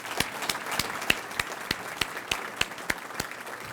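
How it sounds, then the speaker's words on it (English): A small room of Rotary club members at an evening dinner meeting gives a round of applause: sparse, individual claps near the microphone at a steady, uneven rhythm, fairly quiet, with no talking. "Let's give them a round of applause."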